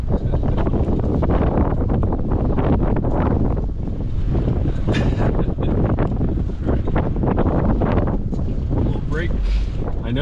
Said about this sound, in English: Got the wind going into the cabin.